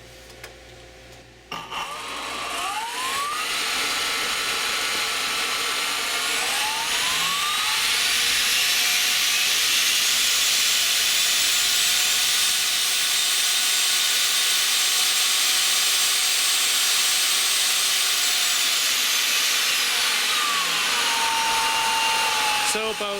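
An electrically driven turbocharger compressor spinning up to about 22,300 RPM on 6 kilowatts, a loud steady high-pitched whine and roar that rises in pitch, holds, then winds down near the end.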